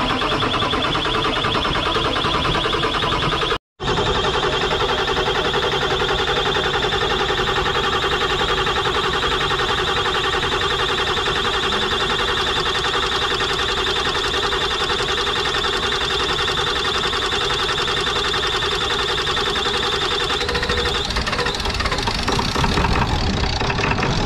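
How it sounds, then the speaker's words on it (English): A 7.3 diesel engine cranking and then starting and running after an injector install, a loud, steady mechanical drone lasting throughout, broken by one brief dropout early on. "So we'll start some cranking. All right, he's gonna start cranking her, getting all prepared."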